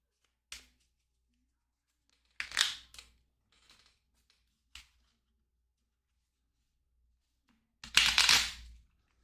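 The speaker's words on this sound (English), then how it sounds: "that was a terrible shuffle" A deck of playing cards shuffled at a tabletop for the board game Sleeping Gods: several separate riffle bursts, brief and close, with near silence between them and a longer, louder riffle at the end.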